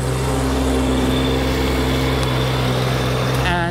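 Steady motor drone of a concrete vibrator during a concrete column pour at a Philippine house construction site, continuous and close, with a voice briefly heard near the end.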